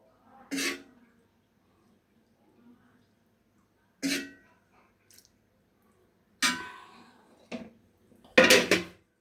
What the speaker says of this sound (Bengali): এটা আমার থালে বেড়ে নেব